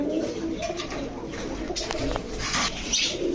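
Pigeons at a sale, including orange chila birds with feathered feet, coo in soft repeated throaty rolls close by, over a busy background murmur and occasional clatter.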